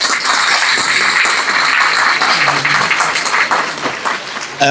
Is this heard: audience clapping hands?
yes